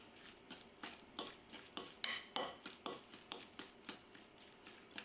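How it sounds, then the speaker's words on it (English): A spoon stirs an Obatzda mixture of cheese and beer in a bowl, giving a steady series of light metallic clinks and scrapes against the bowl, close and fairly quiet, with no talk. "Stir it again."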